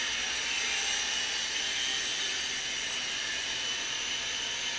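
Sky Rover Navigator toy drone in flight, a thin high-pitched whine of small propellers, steady and continuous at moderate distance with no talk.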